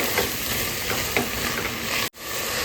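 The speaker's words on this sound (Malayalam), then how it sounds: "നന്നായി മിക്സ് ചെയ്ത് കൊടുക്കാമേ." Close sizzling and scraping as chopped tomato is stirred into chicken biryani masala in a pressure cooker, a continuous fry with a few spoon strokes and a brief break near the end.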